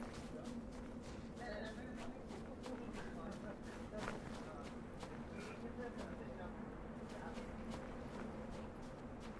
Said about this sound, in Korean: 앞쪽에 발소리 났어요